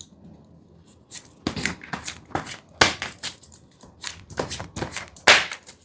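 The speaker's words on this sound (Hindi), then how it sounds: "First shuffle the cards a bit." Tarot cards are shuffled by hand close up, with a run of crisp riffling and slapping bursts in uneven rhythm and short pauses between them, with no voices.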